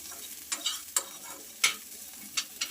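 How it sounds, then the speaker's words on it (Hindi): Onion and green chili frying in a pan, with a steady soft sizzle and several sharp stirring scrapes of a spatula spaced irregularly through the clip. "हमारी अब प्याज भुज रहा है, और मिर्ची भी हमने साथ में ही डाल दी भुजने के लिए।"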